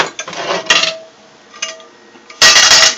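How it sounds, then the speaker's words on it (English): A cooking pan is pulled out and handled in a home kitchen, with close metallic clanks and clinks in separate bursts, ending in a louder, sustained rattle of metal against metal. "I'm going to get a big enough pan down here."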